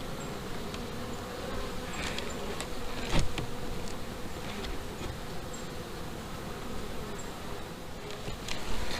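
Honey bees buzz continuously around an open hive during an inspection, a dense close-up drone with individual bees zipping past and occasional soft knocks of frames.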